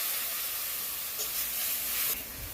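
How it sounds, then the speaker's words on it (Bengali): Ground spice paste fries in a pan with chopped tomato and a little water for a Bengali khichuri, giving a steady, close, bright sizzle that swells slightly before dropping off near the end. "আমি কিন্তু মশলাটা ভালো করে কষিয়ে নিচ্ছি"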